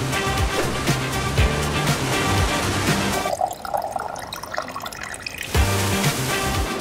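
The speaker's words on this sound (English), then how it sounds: "the one sitting right in front of the most powerful waterfall in all of Europe" Rushing water at Rhine Falls in Switzerland, Europe's most powerful waterfall, a loud, steady broadband roar that dips and thins for a couple of seconds midway before returning at full strength.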